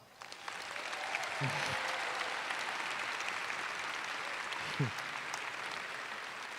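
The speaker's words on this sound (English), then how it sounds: "I think that deserves another round of applause" A large crowd at the John Bapst Memorial High School Class of 2022 graduation ceremony applauds the graduating class, a broad, sustained roar of clapping heard from a distance and steady throughout.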